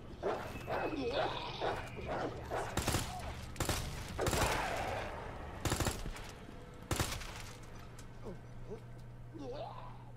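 Dogs bark and snarl repeatedly in Resident Evil 2 gameplay, mixed with bursts of loud gunfire and a low droning game soundtrack, with a player talking over the action.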